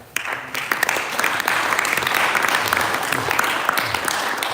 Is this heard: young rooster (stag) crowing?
no